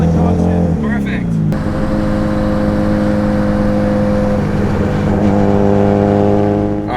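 A 1000HP Mustang pro drift car engine held at high revs, a loud, steady droning roar that rises slightly in pitch early and sustains, with a voice talking over it.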